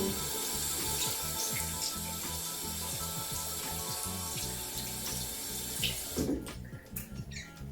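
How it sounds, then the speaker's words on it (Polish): A small facial cleansing device with its tip detached is rinsed under a running bathroom tap, steady close water splashing into the sink with light rubbing and handling noises, the flow breaking into separate splashes near the end. "To jest fajne, to odpinamy sobie końcóweczkę, więc jest to bardzo sterylne. I myjemy pod bieżącą wodą."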